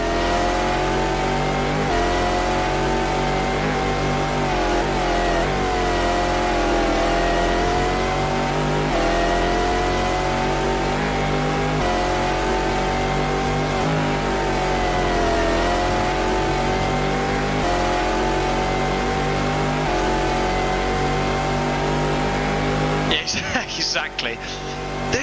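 A racing car engine in a Le Mans video game, set in 2000 qualifying, screams and revs without a break, pitch rising and falling through gear changes, with a voice talking over it before it cuts off near the end.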